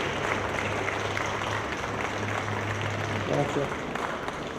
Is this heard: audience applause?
yes